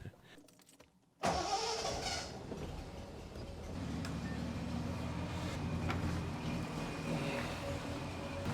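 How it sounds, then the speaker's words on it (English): A 1973 Triumph TR6 six-cylinder engine fires after a brief cranking moment, then settles into a steady, loud idle that rumbles on without any talk. "I'm gonna start the engine."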